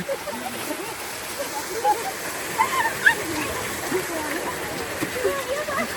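Water splashing and pouring as people bathe outdoors in a village, a steady wet wash with irregular splats, fairly near, with voices mixed in.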